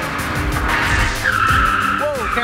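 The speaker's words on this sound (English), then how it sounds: "Lost some time there. Bunch of wheel spin." A rally car spins its wheels out of a hairpin, tires squealing loudly over the revving engine for a couple of seconds, close by.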